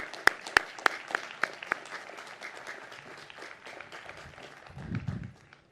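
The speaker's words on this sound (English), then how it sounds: "So please give them all a round of applause" Audience applause at a 2021 commencement ceremony for the College of BILT, with sharp claps standing out early over a steady wash of clapping. Toward the end a low rumble rises briefly before the applause fades out.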